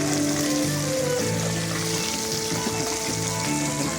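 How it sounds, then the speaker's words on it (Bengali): Fish frying in a pan outdoors at a Sunday picnic, a steady close sizzle and crackle that runs unbroken for the whole stretch, with no one speaking over it. "মাছ ফ্রাই করতে বসে গেছে।"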